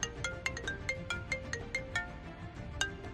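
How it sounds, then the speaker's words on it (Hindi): Phone ringtone in a Hindi audio drama, a melodic electronic tune repeating in short regular pulses over a low background music bed, moderately loud and without talk. "तभी उसी टाइम वान ली का फोन बजा।"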